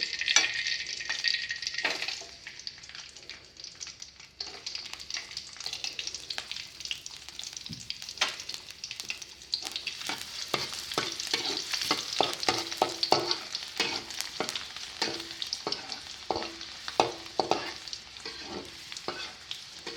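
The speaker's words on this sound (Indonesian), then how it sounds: "Kita panaskan minyak. Kita masukkan bawang putih." Chopped garlic hitting hot oil in a pan for a sweet, sour and spicy shrimp dish: a bright sizzle that flares and crackles, with scattered pops and the clink of stirring building over twenty seconds.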